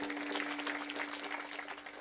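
Applause from an audience at a kirtan, a faint, even patter of many hands clapping that goes on for about two seconds. No voices are heard.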